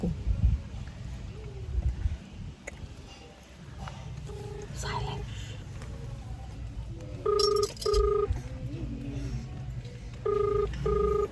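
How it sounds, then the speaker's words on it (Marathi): A telephone rings in repeated bursts for a prank call, a short two-tone trill sounding three times at moderate volume over quiet room noise and low murmuring voices. "संतोषवरती एक प्रँक कॉल करूया आपण प्रियाच्या फोनवर"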